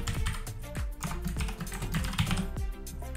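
A name being typed on a computer keyboard, a quick, close run of crisp key clicks with small pauses between bursts and no talking.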